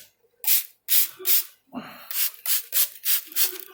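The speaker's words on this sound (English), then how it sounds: "Give it a good old spraying." A spray bottle is squeezed repeatedly, about eight short hissing bursts in a quick, uneven rhythm, close by and alone.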